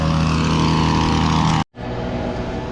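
A gas hedge trimmer runs loud and close while cutting a massive hedge, with a steady buzzing engine drone that cuts out abruptly for a moment and then resumes at full power.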